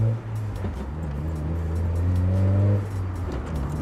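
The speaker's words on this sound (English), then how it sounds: "Those gear changes were a bit jerky, but they were on purpose to exacerbate the clunking." A car idling and pulling away with deliberately jerky gear changes, meant to bring out a clunk near the passenger seat; a steady engine drone rises and falls with a brief shift at the start.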